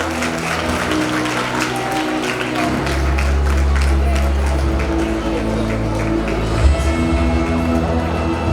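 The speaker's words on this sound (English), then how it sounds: "let's give a loud round of applause to Sparkling Sapphires" A school audience at a silver jubilee celebration gives sustained, even applause for the Sparkling Sapphires house winners, a steady wash of clapping with crowd murmur and some voices underneath throughout.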